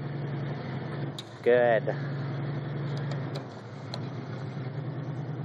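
A stuck 1998 Ranger's engine hums low and steady while the truck strains to pull free, with a brief voice cutting in partway through.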